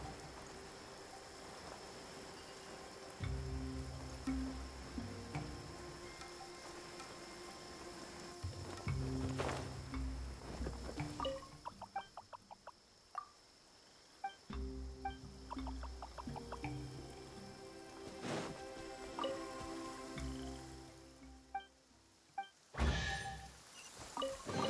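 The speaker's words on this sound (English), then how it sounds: "Taking a stroll in the middle of a downpour certainly rouses the spirit." Steady rain pouring down in the video game Genshin Impact, a continuous wash of falling water with scattered splashes and drips, broken by footsteps and brief game sounds over a moderate, even level.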